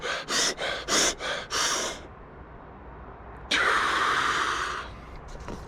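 Deep, rapid breathing exercise done during a week-long fast: five quick forceful breaths in a row, a pause of quiet, then one long loud sustained exhale, close to the microphone.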